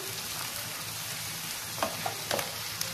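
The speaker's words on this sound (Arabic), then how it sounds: "هنبدا ننزل بالبصل بقى، ونبدا نقلب فيه لحد اما ايه يعني لونه يبقى ذهبي" Onions frying in oil for moussaka, a steady close sizzle with a few sharp clinks and scrapes of stirring toward the end, no talk.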